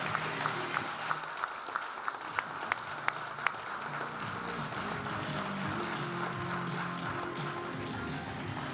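Sustained audience applause at a Scottish health awards ceremony, steady dense clapping throughout with a few sharper taps early on, moderately loud and continuous without talk.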